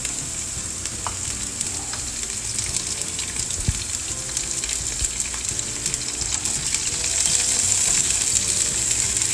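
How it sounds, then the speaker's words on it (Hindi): Onions sizzle steadily in hot oil with cumin in a pan, a dense continuous frying hiss that grows slightly louder toward the end, close by with no talking. "थोड़ी देर प्याज को अच्छे से भून लेंगे"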